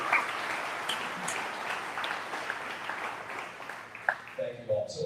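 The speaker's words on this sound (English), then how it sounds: "let's give this group a big round of applause" A crowd at a commercial realtors' association event claps in sustained applause for several seconds, then the clapping thins and fades at the end.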